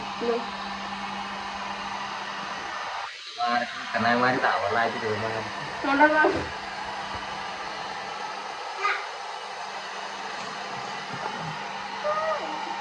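A hair dryer blows in a beauty parlour setting, a constant close whooshing hum running throughout while people talk over it.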